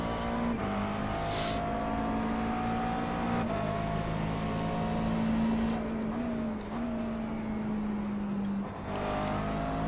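McLaren MP4 12C GT3 race car engine in the iRacing sim at Road Atlanta, a steady loud drone that shifts pitch with gear changes and throttle as the car pushes into corners.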